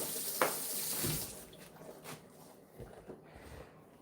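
Tap water runs into a cat's water bowl at home, a steady hissing pour that fills the first part and then tapers to softer splashes and clinks of the bowl.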